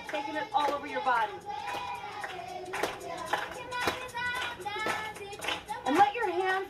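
Hands clapping during a dance exercise, a series of sharp claps at irregular intervals, heard alongside voices talking.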